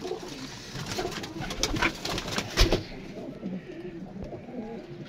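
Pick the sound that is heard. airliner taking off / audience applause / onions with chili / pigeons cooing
pigeons cooing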